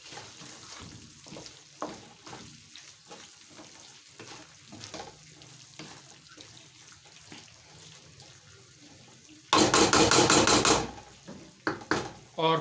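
Chicken with ginger and fresh coriander is stirred in a pan with soft scraping and sizzling, followed by a louder burst of hissing, splashing noise near the end.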